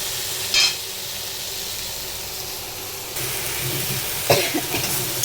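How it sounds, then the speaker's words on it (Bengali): Vegetables fry with spices in a home kitchen pan, a steady broadband sizzle and hiss throughout, with a couple of brief scraping stir or clatter bursts near the start and end. "এখন আমি একটু মশলা দিয়ে ভালো করে কষিয়ে তারপরে ঝোলটা দিয়ে দেবো"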